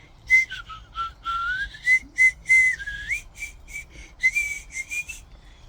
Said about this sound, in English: I love to whistle.